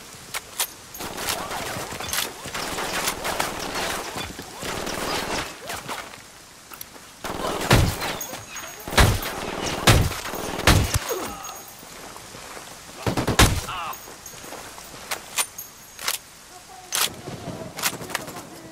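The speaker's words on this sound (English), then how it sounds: "Opening fire!" Gunfire in a Ghost Recon Wildlands firefight against UNIDAD soldiers: scattered single shots and short automatic bursts crack out irregularly, some loud and close, others softer, over a busy outdoor background.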